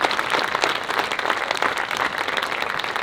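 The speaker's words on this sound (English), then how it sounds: "Huge round of applause for subscription readers" An audience breaks into steady, dense applause at a magazine event in New Zealand, many hands clapping at once in a continuous, fairly loud wash with no voices over it.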